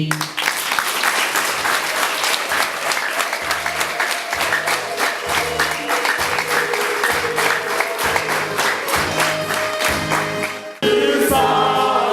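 A wedding crowd gives loud, sustained applause with a steady low rhythmic thump underneath, and the clapping breaks off briefly near the end.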